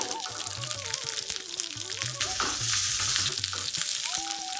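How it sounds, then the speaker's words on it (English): Baby shallots frying in oil with urad dal and curry leaves, a continuous bright sizzle with occasional stirring under soft background music. "Next add in 1 cup of baby shallots or pearl onions."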